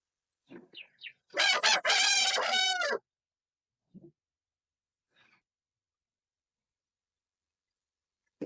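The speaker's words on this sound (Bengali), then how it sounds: "ভাই পরের মুরগিগুলো দেখি।" A rooster on a poultry farm gives one loud, close crow, preceded by a few short clucks and followed by brief faint clucks amid near silence.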